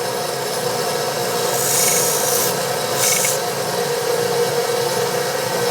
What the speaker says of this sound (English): I'm sanding out the top too, just all the little corners in it.